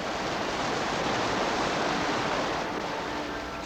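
Rushing meltwater pours through a glacier in Glacier Bay, a dense, steady roar of water that stays loud and close throughout with no voices.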